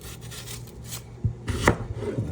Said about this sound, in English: Now, in the meantime, I cut up another onion.